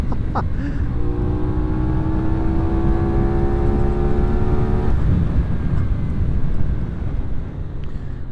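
CFMOTO 450NK or 800NK motorcycle engine revving high toward 12,000 RPM, a loud rising whine held for several seconds, then dropping back as the revs fall.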